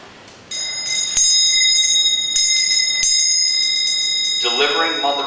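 A handheld ritual bell rings with bright, sustained metallic tones, struck a few times with shimmering overtones lingering, close and loud, with a voice coming in at the end.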